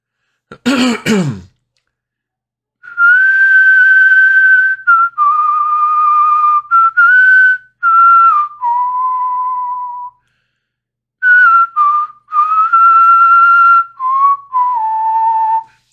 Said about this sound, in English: That's a long whistle song.